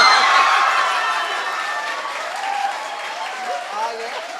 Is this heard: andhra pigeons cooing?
no